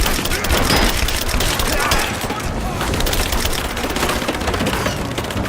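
Dense gunfire in the video game Rise of the Tomb Raider, rapid bursts and shots packed together at a loud, steady level with voices calling out over the shooting.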